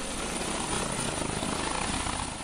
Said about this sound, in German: Gleich mehrere Hubschrauber starten Richtung Ostdeutschland.